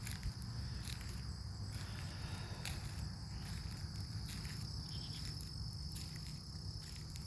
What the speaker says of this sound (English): The frogs and crickets going off.